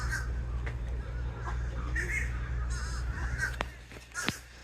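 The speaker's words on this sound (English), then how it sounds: "And the crows are kind of stealing the show." Crows caw repeatedly in the open air at a Florida wildlife spot, harsh calls of moderate loudness over a steady low rumble of background noise, with a sharper burst of cawing near the end.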